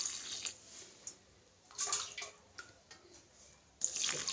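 Cold water is poured into a bowl of flour and semolina batter, a faint splashing trickle that comes in short bursts with brief gaps, close by and with no talking.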